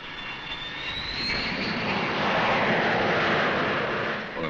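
Jet aircraft engine roars loud and close, a broad steady rushing blast with a faint rising whine that swells slightly midway and holds, no speech over it.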